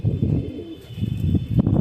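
Male pigeons of Andhra, Chennai and Black Diamond breeds coo loudly and close by in repeated low, throaty bursts, two or three rolling phrases with short pauses between them.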